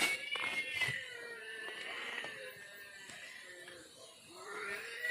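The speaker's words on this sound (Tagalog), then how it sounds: "May ligaw na pusa din pala dito." A stray cat meows with drawn-out, wavering cries outdoors, fairly close and moderately loud, against a hissy background, with no talking over it.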